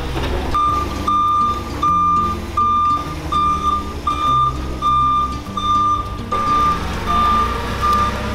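A semi truck's reversing alarm repeats steady, evenly spaced high beeps over a low diesel rumble, continuing loud and close throughout.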